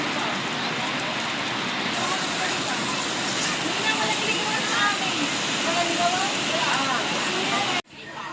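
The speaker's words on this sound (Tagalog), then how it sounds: "Yan, baha mga idol." Floodwater rushing in a steady, loud broadband wash that continues without a break and cuts off abruptly near the end.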